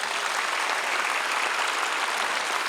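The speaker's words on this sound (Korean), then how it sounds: "다시 한번 순국선열 유족들에게 감사의 박수를 보내야 합니다" A church congregation applauds at a peace and unification revival service, a dense, steady wash of many hands clapping that fills the hall evenly and without pause throughout.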